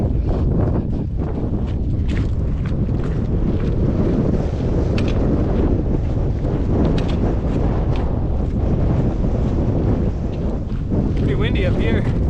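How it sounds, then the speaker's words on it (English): Strong gusting wind buffets the microphone on a high, exposed mountain stretch of the Colorado Trail, a steady loud roar that swells and eases throughout. "Pretty windy up here."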